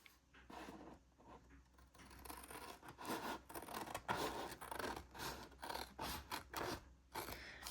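Scissors cutting through a folded Dollar Tree notebook, a run of close, crisp snipping and scraping strokes in an irregular rhythm, alone and fairly quiet.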